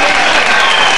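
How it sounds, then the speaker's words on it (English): A wrestling crowd on its feet giving a standing ovation, a loud, dense wash of clapping and cheering filling the arena without a break. "Standing ovation for Ray Steele at getting the first fall over this enormous boy from Mississippi."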